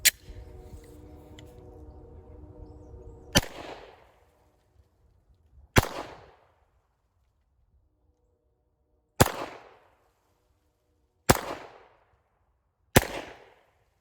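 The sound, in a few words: Glock 9mm pistol firing cast hollow point rounds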